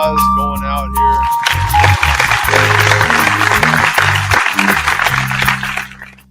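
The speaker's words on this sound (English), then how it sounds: "Still a round of applause going out" A studio audience claps in a sustained round of applause, loud and close, while a voice talks over the start before the clapping fades out at the end.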